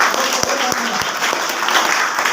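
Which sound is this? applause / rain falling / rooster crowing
applause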